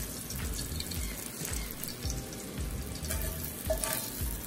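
Sausage browns in a pan with a close, steady sizzle and crackle, stirred with soft scraping strokes that rise and fall in loudness.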